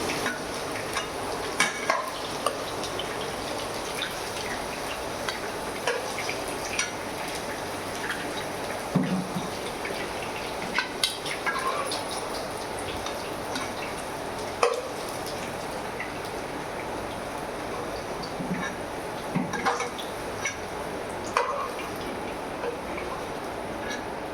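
Cinnamon, cloves and cardamom go into hot oil in the pan used for bitter gourds, giving a steady sizzle with scattered clicks and scrapes of stirring, close and moderately loud.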